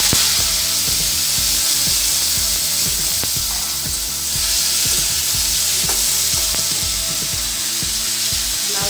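Potatoes sizzle in hot oil with panch phoron five-spice as a loud, continuous frying hiss fills the pan, broken by repeated scraping and clinking of a stirring utensil, with no talking.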